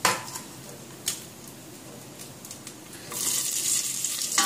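Green chilli and cardamom frying in a pot for a chana biryani, a steady soft sizzle with a few scraping stirs, growing louder and brighter toward the end.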